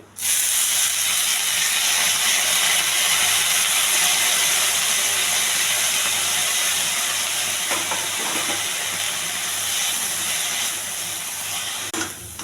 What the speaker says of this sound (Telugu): ఈ పుదీనా కూడా ఎగర్చాలి